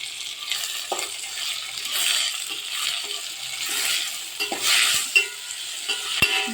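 Ivy gourd, fried golden brown with salt and turmeric over a high flame, is stirred in a pan: a hissing fry with intermittent scraping strokes and a couple of sharp metallic clicks toward the end.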